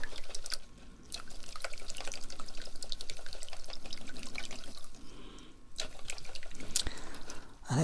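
Fish water pours from a pot onto plant roots, making a continuous close trickling and splashing sound with a brief lull midway and a few sharper drips and clinks.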